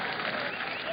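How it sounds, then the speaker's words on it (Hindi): A comedy event audience claps steadily, a brief, dense burst of applause from many people heard at close range. "ताली बजाओ यार, ऐसे मजा नहीं आएगा।"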